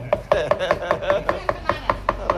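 Rapid rhythmic knife chopping of fish on a board for larb, about a dozen sharp close chops in quick even succession, loud and alone.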